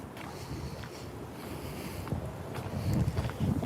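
Gusty wind blows through an outdoor garden, a steady broadband rush at close range that swells louder toward the end, buffeting the microphone with low rumbling.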